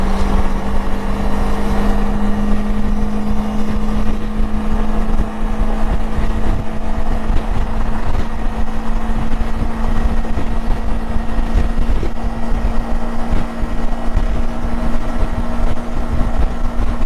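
Kawasaki Versys 300 motorcycle ride at highway speed, about 70 mph, on a commute: a steady, loud engine drone mixed with heavy wind rush across the microphone, continuous with no talk.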